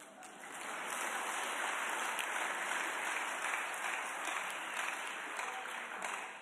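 Sustained applause from a church congregation at a Wednesday evening service, a dense steady wash of clapping at even loudness throughout, with no talk over it.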